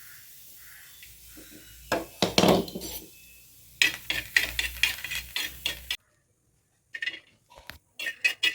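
Sesame seeds, or a similar ingredient, are dry-fried in a hot pan at home while a utensil scrapes and clatters against the metal in bursts, with short clinks, pauses and brief quiet gaps between stirs.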